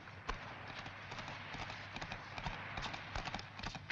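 Rapid clip-clop of horse hooves galloping on hard ground, a steady drumming rhythm, moderately close with no talk.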